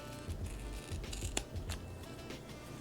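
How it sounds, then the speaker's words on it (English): Scissors trim paper close up in a quiet room, a short run of soft snips and crisp cuts with one sharper click partway through. "Now I just need to trim."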